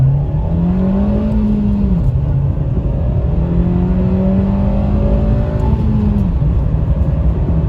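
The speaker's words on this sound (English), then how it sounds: "Here, let's do a little acceleration." A 2023 Nissan Versa S with a manual transmission accelerates, its engine droning loud and steady from inside the car, pitch climbing through a gear, briefly dropping at a shift, then rising again.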